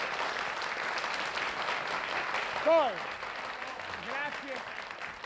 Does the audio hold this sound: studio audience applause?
yes